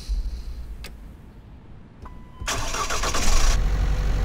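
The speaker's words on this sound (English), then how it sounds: "sounds like a typical Mercedes Sprinter bus" A Mercedes Sprinter bus engine cranks and catches in the Tourist Bus Simulator game after a few clicks, then settles into a loud, close, steady idle with no talk.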